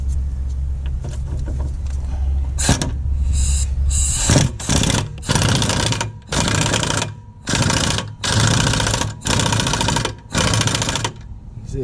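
An impact wrench on a low torque setting works on the rear end links of a 1997 Volvo 850 Wagon, firing in repeated loud hammering bursts of about a second with short pauses, close by after a quieter lead-in.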